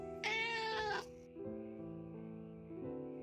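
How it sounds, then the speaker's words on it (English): A cat in an entrance hall gives one loud, close, drawn-out meow, then makes softer, lower sounds, with no talking. "Oh, there's a cat!"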